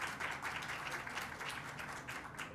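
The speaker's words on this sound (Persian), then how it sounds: "لطفاً با یه انرژی گرم و یه تشویق واقعی ازشون استقبال بفرمایید." An audience applauds warmly at a film editing exhibition held by a university film editing society, a dense, continuous wash of many hands clapping at once that stays steady and full throughout the short burst.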